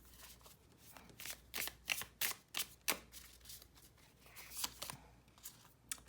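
A tarot card deck being shuffled by hand, producing a series of crisp riffling bursts and soft slaps in an uneven rhythm, close and fairly quiet with no talk.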